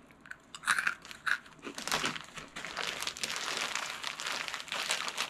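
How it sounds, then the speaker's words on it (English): Freeze-dried Skittles candy is bitten and chewed close up, giving a few sharp crunches at first and then continuous crisp crackling and crunching. "when it dries, the sugar in it just poofs up and it becomes crunchy instead of chewy"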